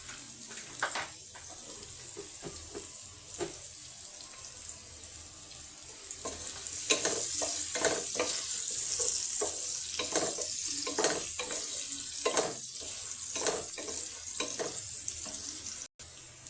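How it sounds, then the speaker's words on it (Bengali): Onions frying in oil in a pan while boal fish with tomato is being prepared, giving a steady close sizzle with repeated scraping stir strokes that grow busier partway through. "পেঁয়াজটা একটু তাড়াতাড়ি ভাজা হয়"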